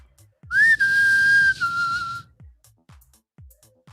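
A person whistles one sustained, slightly wavering note for about two seconds, then stops, leaving a quiet room with a few faint clicks.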